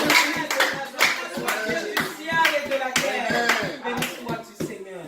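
A church congregation at a Sunday service claps in a fast, loud, uneven burst, with voices cheering and calling out over the applause.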